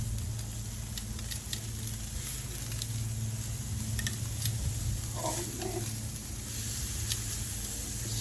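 Tri-tip steaks sizzling in a pan of clarified butter, a steady, dense frying hiss that carries on without a break for several seconds, with a low hum underneath and a brief burst of popping near the end.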